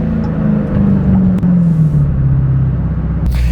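A 2023 Dodge Hellcat Jailbreak with low mileage, its engine giving a loud, steady low rumble heard up close, the pitch easing down slightly before a brief shift near the end.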